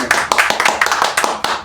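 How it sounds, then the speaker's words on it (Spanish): Audience applause welcoming presidential pre-candidate professor Eduardo Artés, a close, loud burst of individual claps in an uneven rhythm, fairly sparse as if from a small group. "Un aplauso"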